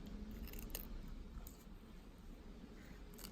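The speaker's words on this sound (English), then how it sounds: "I'm just going to run the scalpel down there like that. And that will have been sufficient to cut through." A scalpel is drawn across sticky label material on an N gauge model railway station build, giving faint, close scraping and ticking cuts, a few brief sharper clicks, with no talking.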